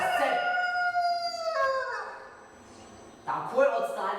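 A crowing rooster, the kind found in a village, heard as a loud, drawn-out harmonic call with voices overlapping it and a second bright burst near the end.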